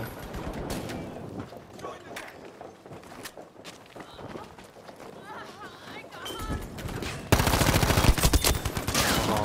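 Enemy gunfire in Battlefield V during a Devastation Conquest match, with bursts of shots, footsteps and movement, plus a loud dense blast of fire near the end, under a player talking.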